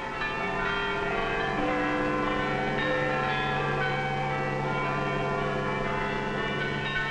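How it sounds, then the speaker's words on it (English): Several church bells ring together in a continuous, overlapping peal, loud and steady throughout with no voices. "Once more, the people of Britain heard their church bells ring"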